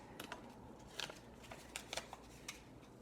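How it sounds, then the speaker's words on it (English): Regular scissors snipping through template material for ceramic jewelry, a series of short, crisp cuts spaced irregularly, close and fairly quiet with no talking. "I'll just take my regular scissors"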